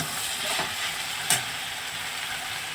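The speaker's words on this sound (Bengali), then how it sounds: "ভেন্ডি আলু ভাজা" Okra and potatoes fry in a pan, a steady close sizzle with a single sharp clink of a utensil partway through.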